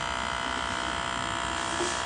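A vacuum blender runs its vacuum cycle on a tropical carrot smoothie, a steady, even electric whir that holds unchanged for the full two seconds.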